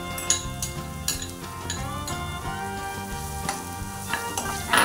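Two large finely chopped onions frying in a pan, a steady sizzle broken by clinking spoon-against-pan stirring strokes, close by and alone apart from soft music.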